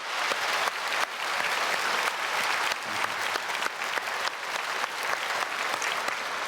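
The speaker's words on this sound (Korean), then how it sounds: "우리 여러 예배위원들 수고하시는데 우리 박수로 한번 크게 축복하겠습니다" Congregation at a Sunday church service applauds the worship committee members, a dense, steady wash of many hands clapping that carries on without a break from start to finish.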